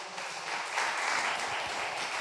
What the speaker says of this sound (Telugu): చప్పట్లో కూడా దేవుని స్తుతించండి.